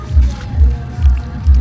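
Wallpaper paste being mixed by hand with a little water in a basin, slow rhythmic squelching strokes, four soft low wet pulses, close up with no talk.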